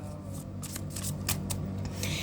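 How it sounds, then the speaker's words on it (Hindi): Tarot cards being shuffled by hand, a soft riffling flutter in several quick bursts over a couple of seconds, close and quiet with no talking. "Last shuffle."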